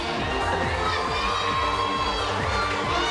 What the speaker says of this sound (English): You hear her teammates cheering for her.